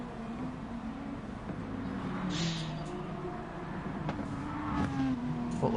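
Race cars accelerating in Gran Turismo 2, a drag race between a Toyota and a Mazda, with engine tones rising steadily under a constant game soundscape, moderately loud with occasional brief higher bursts and no talk.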